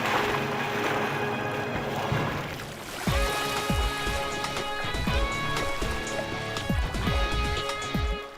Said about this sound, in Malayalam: ദേ നോക്കിയേ, ആംബുലൻസ് വെള്ളത്തിലേക്കൂടെ ഓടുന്നു.